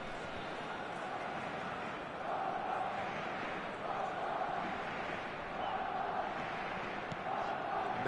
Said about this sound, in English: Certainly gave this crowd something to really cheer about.